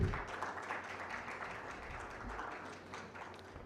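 A conference audience applauds as a speaker is called on stage at a customer engagement awards forum, a steady, distant wash of many hands clapping that holds at a low, even level.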